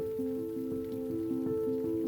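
Steady rain falls close by in a continuous patter, with individual drops ticking at irregular moments through the even wash. No voices are heard.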